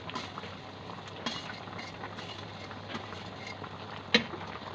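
A pot of water boils on a stove for a spinach (palak) curry, giving a steady, close bubbling hiss throughout with a brief louder pop near the end.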